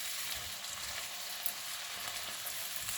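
Sliced Fuji apple and onion fry in butter in a pan, giving a soft, even, continuous sizzle with faint crackles and no voices.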